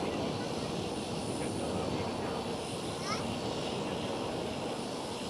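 A TAP Air Portugal airliner at Amsterdam Schiphol, its engines a steady broadband roar heard at a distance, continuous and even throughout, with a voice talking over it.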